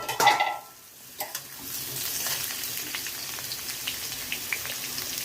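Ridge gourd, added to fried potatoes, sizzles and is stirred in hot mustard oil tempered with nigella seeds and dried chillies, a soft steady hiss with scraping stir sounds and a few clinks, close and alone.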